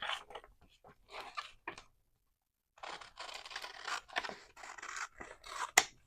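Scissors snip through paper and card, cutting along an envelope edge used as a guide, in several quick bursts of crisp slicing with short pauses between, close up, with no talking.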